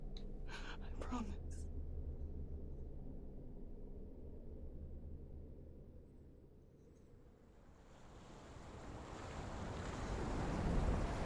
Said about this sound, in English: I like how the sound of the ocean invades your mind again.